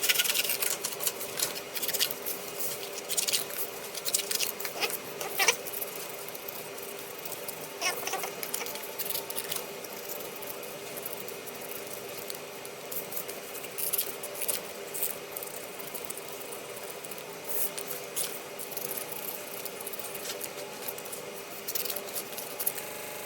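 Material for a homemade carousel being cut by hand, with a long run of small crisp snips and scratchy rustles, close and moderately loud, no talking.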